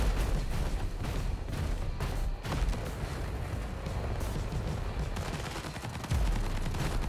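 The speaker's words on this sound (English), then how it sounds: "Using a rock launcher, but there's no homing feature in it" Rocket launcher fire from a robot in the mech combat video game War Robots Frontiers, heard as a dense, continuous barrage of loud, rapid blasts and booms, with no voice over them.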